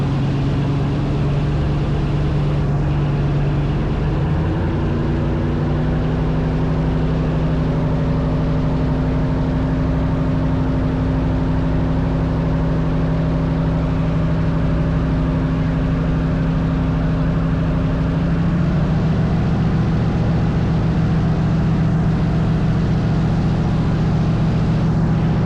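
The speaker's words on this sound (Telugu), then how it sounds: "ఎదురుగా ఉన్న ఎయిర్ బోట్ బ్లేడ్స్ చూస్తే అర్థమవుతుంది ఇది పెద్ద నాయిస్ చేసిద్దని" Airboat engine driving large propeller blades at a steady loud drone, with a pitch shift around the middle as the revs change; continuous and close, no talk.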